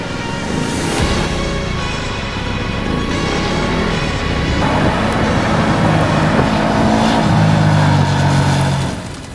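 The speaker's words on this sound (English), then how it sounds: "The sound of the V-twin engine through the exhaust was" A Ducati DesertX V-twin revs through its exhaust on a rally climb toward a mountain summit, a loud, steady engine drone with rising and falling throttle swells throughout.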